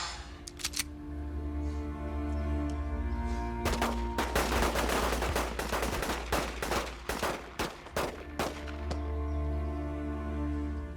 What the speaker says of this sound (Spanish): Con estos disparos, Araceli, te despedimos para siempre